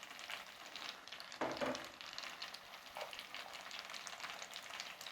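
Drained pasta dropped into a hot pan of chili garlic, with a soft steady sizzle and a brief louder hiss as more pasta lands, fairly quiet and close, with no voices.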